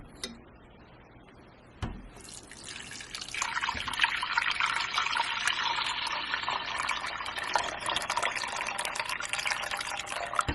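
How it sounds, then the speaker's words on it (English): Hot water from a kettle is poured over cheese curds in a bowl for homemade burrata, a steady splashing, filling stream after a brief knock, running close and continuous. "I'm just boiling a kettle of water and then I'll pour that on top"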